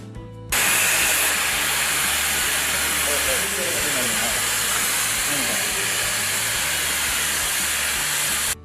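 An oxy-fuel blowpipe flame roars steadily while preheating a mild steel plate, a loud continuous hiss that starts abruptly and holds for several seconds, with faint speech in the background.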